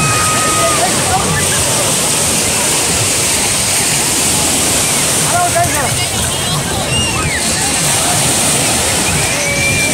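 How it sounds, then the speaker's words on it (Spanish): Ocean surf at Playa del Sol in Viña del Mar, a loud continuous roar of breaking and sloshing waves filling the whole clip, with faint higher cries rising briefly over the rush. "Aquí estamos en la playa del sur"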